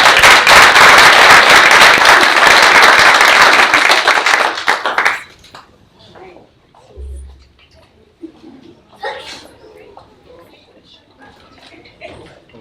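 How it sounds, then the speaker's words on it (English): An audience at a school board meeting claps and cheers for parents and families in a dense, loud burst that lasts about five seconds before cutting off, leaving quiet room noise and scattered faint sounds. "let's also get a round of applause for the parents and families"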